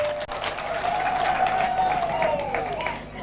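Children at a school for the disabled clap for visiting partners, a sustained crowd applause with a voice heard over the steady clapping.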